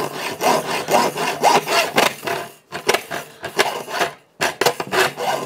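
A Parkside hand saw with an 18 teeth per inch blade cuts through copper pipe, giving a run of rhythmic, close, rasping back-and-forth strokes that break into short pauses and stop-start scrapes near the end.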